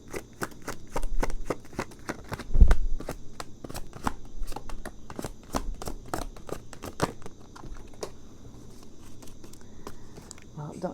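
Tarot cards are shuffled by hand in quick, crisp riffling snaps, repeated many times at an uneven pace, close and clear, with one heavier bump partway through.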